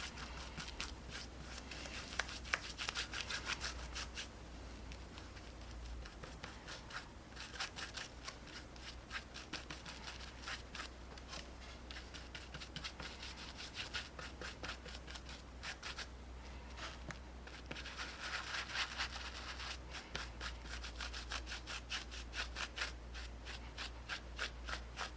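Continuous dry rubbing and scrubbing as antique gold Buff-it patina is worked over an entire surface, close and fairly quiet, with a brisk, even rhythm of strokes.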